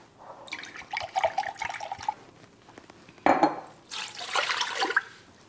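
Apple cider vinegar pours in bursts into a bowl or pot for a canning brine, liquid splashing and trickling in several uneven streams with light clinks of the container, fairly close.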